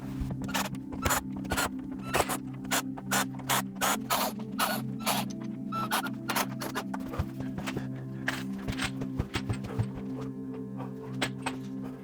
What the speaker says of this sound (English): I'll loosen the screws to all these brackets so I can get that railing off and get the first cuts.